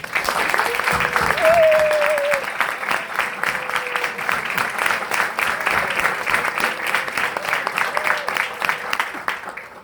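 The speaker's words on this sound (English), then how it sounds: "Can we please give them another round of applause?" Sustained audience applause for 2019 PACE graduates at a graduation celebration, a dense wash of many hands clapping steadily throughout, with a voice briefly audible over the crowd.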